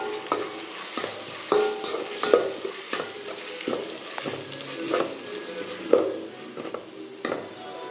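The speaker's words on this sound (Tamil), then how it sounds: "எப்போவுமே இஞ்சி பூண்டு பேஸ்ட்டு சேர்த்தோன்னே வதக்கிட்டே இருங்க, இல்லைன்னா கறி பிடிக்கும் சட்டி." Onions with ginger garlic paste sauté in a pan for chicken kulambu, a soft continuous sizzle broken by repeated spatula scrapes and taps against the pan, close and steady throughout.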